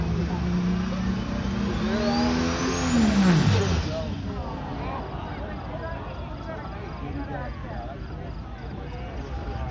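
A truck-class entry in a Wisconsin truck and tractor pull revs its engine under load, a loud droning roar that climbs, swells briefly, then drops away to a lower rumble, with a voice talking over it.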